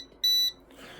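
An AC voltage detector gives a single short, bright electronic beep lasting about a quarter second as it is held near a power strip. The beep is clear and close, and it is followed by faint hiss.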